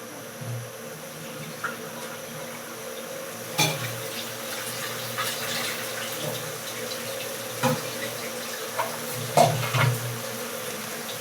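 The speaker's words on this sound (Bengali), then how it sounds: "এই যে লাউ ধুয়ে রাখছি" Running tap water washes a bottle gourd in a kitchen sink while fish curry cooks nearby: a steady water rush with occasional clunks and handling knocks, no talking.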